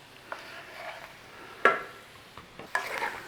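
Sausage and potato hash is stirred and tossed in a frying pan, a gentle sizzle broken by several sharp scraping clatters of the utensil against the pan.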